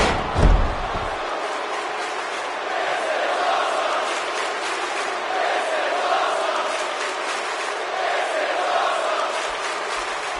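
A heavy thud opens the scene, then a wrestling arena crowd in the video game WWE 2K17 swells into a sustained, roaring wall of noise that holds steady for the rest of the stretch.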